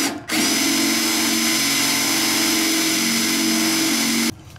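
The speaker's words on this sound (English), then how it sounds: "the first thing we're going to do is drill out the rivets" A power drill bores out the rivets of a Hot Wheels Bone Shaker die-cast car, a steady high-pitched whine that starts abruptly, holds level for about four seconds and then cuts off sharply.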